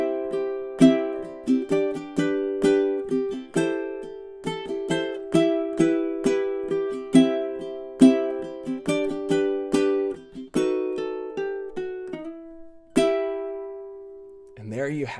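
Solo fingerstyle ukulele playing the whole ending section of The Wellerman sea shanty: a long run of bright plucked notes and strummed chords at a steady pace, close and clear, closing on a sustained chord and a final low note.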